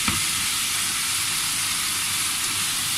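Half a kilo of minced meat frying in a pan with garlic paste and roasted cumin, a steady dense sizzle close by with no talk.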